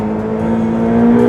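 A car engine, an International Engine of the Year 2018 winner, revs up close as the car accelerates, a strong steady tone rising slightly in loudness over a brief moment.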